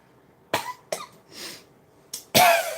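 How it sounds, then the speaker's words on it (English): A person coughing after smoke hits the throat: a few short separate coughs, then a louder harsh cough at the end, close and with no talk. "you go cough when it hits you right there"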